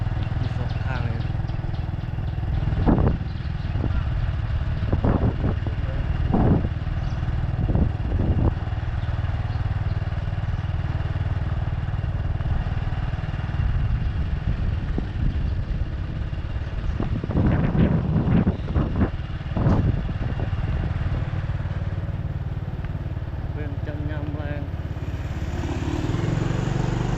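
A motorcycle ridden along a rural road in the evening gives a steady, loud engine drone throughout with wind buffeting and occasional clatter, while a rider talks over it.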